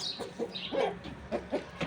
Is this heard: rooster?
yes